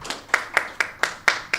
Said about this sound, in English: You can just give them a round of applause as they make their way to the platform.